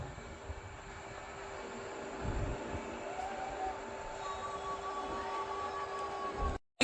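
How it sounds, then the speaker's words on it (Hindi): The Udaipur Khajuraho Express rumbles past on the rails, a continuous low rolling roar with wheel clatter and faint tonal whine, heard from a nearby train before cutting off abruptly. "भाई ये निकल चुकी है अपनी उदयपुर खजुराहो एक्सप्रेस"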